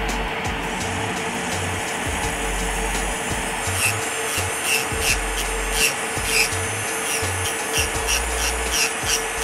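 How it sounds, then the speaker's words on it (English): An electric nail drill with a 5-in-1 carbide bit, running at 10,000 RPM, files and debulks acrylic nails: a steady high motor whine with rhythmic raspy grinding strokes pulsing every second or so, close and fairly loud. "I'm gonna go in with my 5-in-1 carbide bit and clean up and debulk the nails."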